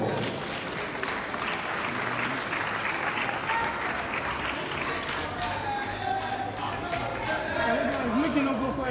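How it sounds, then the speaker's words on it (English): Sustained applause from the audience at the launch of Ghana's Smart Schools programme, dense and steady for the whole stretch, with voices and chatter mixed into the crowd. "A round of applause for them."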